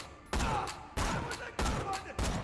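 Four booming sniper rifle shots from a Jakobs gun in Borderlands The Pre-Sequel, evenly spaced at roughly half-second intervals, each loud and close with a short decaying tail, no talk.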